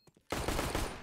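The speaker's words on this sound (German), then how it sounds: "Der letzte Schuss landet dann im Kopf von Eule" Counter-Strike gunfire on the Cache map, with a couple of faint shots followed by a loud, dense burst of rapid automatic fire that continues to the end.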